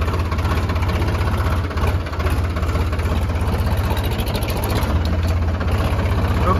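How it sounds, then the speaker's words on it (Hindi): Tractor engine idling and chugging while the tractor is stuck, a steady loud low-pitched rhythmic throb close to the microphone with little variation. "ट्रैक्टर फंस रहा"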